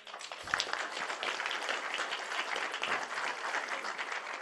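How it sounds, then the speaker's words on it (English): Audience applause at a climate change summit held at a university, a steady, moderately distant patter of many hands clapping for the full few seconds. "all of us gathered here shall applaud your prediction."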